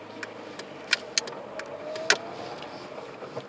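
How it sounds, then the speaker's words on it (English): A car goes by on the road outside, a moderate passing rumble mixed with a few sharp clicks and ticks, with no talking during the pass. "Right, just wait for this car."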